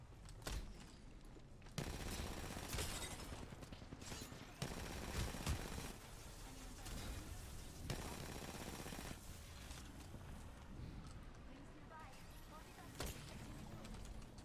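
Rapid automatic gunfire in the battle royale video game Apex Legends, several loud bursts of shots separated by short pauses, with a voice talking over the firing.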